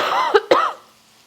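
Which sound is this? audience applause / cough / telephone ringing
cough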